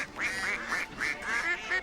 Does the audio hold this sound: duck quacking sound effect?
yes